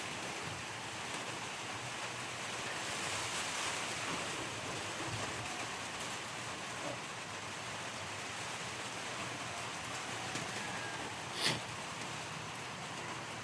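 Strong rain and wind sweep around a hut, a long steady roar that swells slightly early on, with a sharp knock or gust near the end and no speech.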